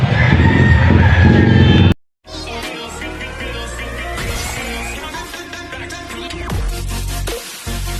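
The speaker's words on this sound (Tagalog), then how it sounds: "Punta tayo sa bintana ng mga manok." Chickens clucking and squawking nearby amid busy, noisy market surroundings in Pampanga, with a short gap of silence early on.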